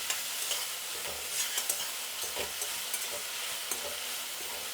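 A puffed rice uggani mixture frying in a pan, giving a soft continuous sizzle with light stirring clicks and scrapes recurring every second or so, close but fairly quiet.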